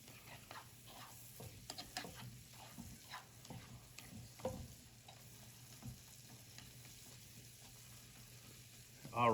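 Garlic, onions and mushrooms cooking in butter in a pan give a faint, low sizzle. Scattered soft stirring clicks and scrapes sit over it, and the sound is quiet and close.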